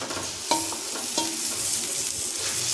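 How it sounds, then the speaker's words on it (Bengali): Fried pointed gourd is sautéed with potatoes in a pan, giving a steady sizzle with a few spatula scrapes and knocks near the start. "এখন পটলটাও আলুর সাথে কষে নেব।"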